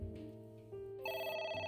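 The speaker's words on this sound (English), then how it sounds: "The phone again. It's ringing again." A telephone rings in AI: The Somnium Files, a bright electronic ringtone cutting in partway through over sustained background music, with no voices.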